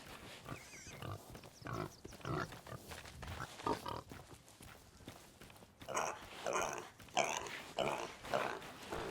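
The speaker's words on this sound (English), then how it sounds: "I found a pig crate, so I want to go capture a little pig friend." Pig oinking and grunting in the pirate game Sea of Thieves, a run of short snorty bursts with a louder, denser stretch toward the end, heard alone without talk.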